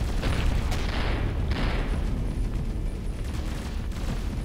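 Torpedo fire in the space game Avorion comes as a dense, continuous rumbling roar with a couple of swelling whooshes, loud and close throughout.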